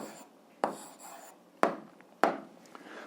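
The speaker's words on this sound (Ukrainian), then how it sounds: "записуємо відповідь, пишемо відповідь" A pen or pencil writing an answer on paper, with three distinct scratchy strokes spaced unevenly, each starting sharply and trailing off, close and quiet with no talk.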